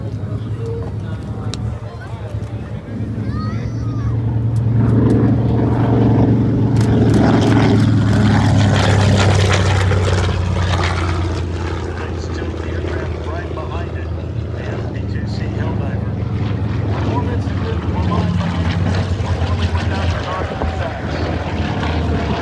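A Grumman TBM Avenger, a WWII propeller plane, drones past at an air show, its radial engine building to a loud, rumbling peak and then easing off but staying present, with an announcer speaking over it throughout.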